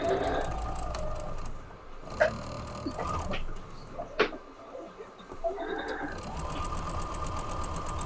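A sewing machine stitches in bursts, its motor humming and stopping between runs, with clicks and knocks in the gaps.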